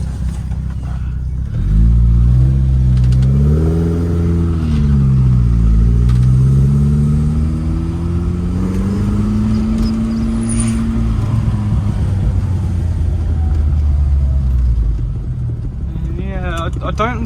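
A Lotus Elan restomod with carburettors cruises at about quarter throttle, heard from inside the car. The engine drone is loud and steady, its pitch rising and falling gently with speed.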